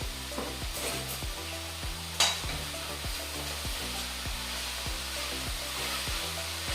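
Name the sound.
stirring rice and peas in a pot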